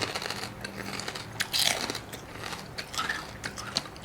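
Someone bites into chewy, crispy pork skin served with khanom jeen nam ngiao, giving a few close, crunchy snaps amid quiet chewing and a soft background hiss.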